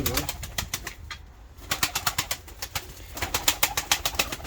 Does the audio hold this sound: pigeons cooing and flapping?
yes